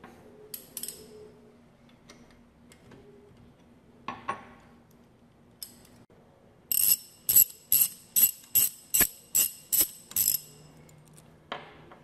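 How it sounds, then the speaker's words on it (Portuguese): A wrench works bolts loose from the front cover of a centrifugal pump during disassembly, giving sparse metallic clicks and then a run of about eight evenly spaced sharp ratcheting taps, close and clear with no talk. "a gente vai retirar aqui agora os parafusos da tampa dianteira. Vou pegar uma chave adequada aqui"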